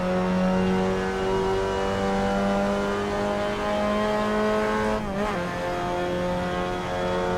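Race-car engine of a Mazda MX-5 Cup car in the Assetto Corsa sim at Suzuka, a steady loud drone held at high revs for about five seconds, then a quick dip and rise as it shifts, with no one talking.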